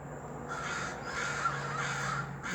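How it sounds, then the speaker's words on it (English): Several crows caw repeatedly in harsh bursts, fairly close, over a steady outdoor background hum with no talking. "Crows are chasing something that sounds different than something I've heard before."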